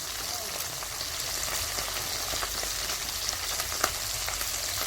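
Bata fish frying in oil in a pan, giving a steady, even hiss of sizzling throughout, moderately quiet and close, without distinct stirring strokes.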